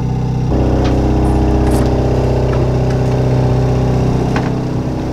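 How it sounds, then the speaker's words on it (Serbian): A repaired engine runs at a steady idle, a close, even, low hum that holds without change for several seconds. "možeš vidit na kak radi motor"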